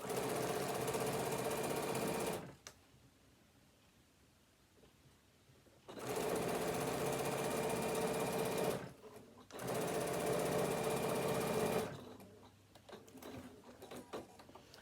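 A sewing machine stitches a fabric tablet holder in three long, steady, close runs separated by quiet pauses.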